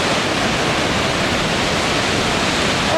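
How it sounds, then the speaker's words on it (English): Cascade Falls on the Kettle Valley River, near Christina Lake and Grand Forks, roars with heavy rushing water, a loud, constant broadband wash close by with no breaks. "There's some pretty serious water coming down."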